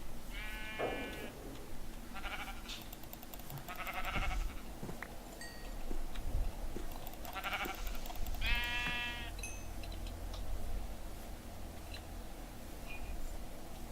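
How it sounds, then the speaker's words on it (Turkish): Sheep in the video game Minecraft bleat in several short, wavering calls spread across the clip, clear against a quiet game background with faint clicks and no talking. "Gördüğünüz gibi bir sürü koyun buldum."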